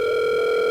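Steady telephone dial tone heard when placing a call on a cell phone, a continuous unbroken hum held at even loudness throughout, with no talking over it.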